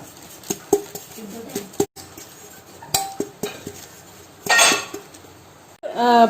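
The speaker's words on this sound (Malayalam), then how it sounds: "ഒരു 1 ടീസ്പൂൺ മൈദ ഇട്ട് കൊടുത്തിട്ട് നന്നായിട്ടൊന്ന് തട്ടിയെടുക്കാം" A flour-dusted, oiled 6-inch cake tin is tapped repeatedly, giving sharp metallic clinks and knocks at irregular intervals, with a louder rattling burst near the end.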